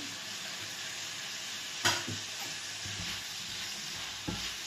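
Tomatoes sizzle in a pan while cooking egg with bitter gourd, a steady, moderate frying hiss with a few sharp utensil knocks against the pan, and no talking.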